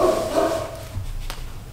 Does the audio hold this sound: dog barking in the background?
yes